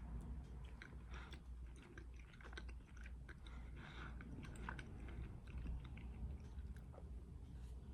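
Someone chews a white grape Lifesaver gummy close to the mic, with soft, quiet, irregular wet chewing and small clicks that go on steadily, and no talking.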